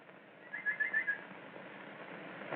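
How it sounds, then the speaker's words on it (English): A nightingale sings in an old 1929 film, heard as a faint, distant burst of short warbling whistled notes over steady background hiss. The song lasts under a second, then only the hiss remains. "The nightingale."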